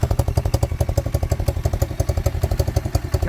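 A pit bike's engine idles steadily just after a kick start on fresh petrol after long storage, a fast even putter of close, loud pulses with a rattly edge.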